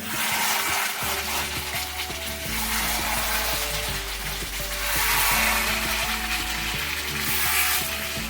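Chicken is stirred with garam masala and chicken masala in a frying pan for Bengali-style chicken kasha, producing a loud, continuous sizzle with occasional scraping and clinking of the spoon.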